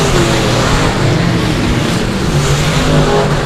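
A race car engine at dirt track qualifying, South Texas Nationals, drones steadily and loudly throughout with no voices over it.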